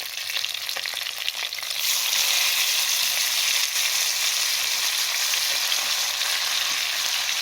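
Fish fillet sautés in a frying pan as cut vegetables are added around it, with a moderate sizzle that swells into a louder, dense, steady hiss after the first couple of seconds.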